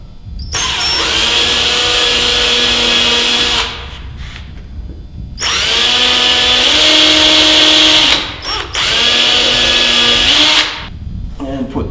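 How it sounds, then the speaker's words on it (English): A power drill pre-drilling screw holes in a SnowWalker toboggan, three loud close bursts of whining motor rising to speed, each several seconds long, separated by short pauses. "pre-drill these holes"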